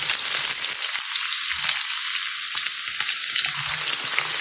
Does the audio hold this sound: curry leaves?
yes